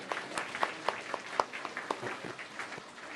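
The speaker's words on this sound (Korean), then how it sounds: "우리 박수로 함께 격려하고 축복하겠습니다." A church congregation applauds together during a Korean worship service, steady dense clapping with sharper individual claps standing out, lasting throughout at moderate loudness over a faint room hum.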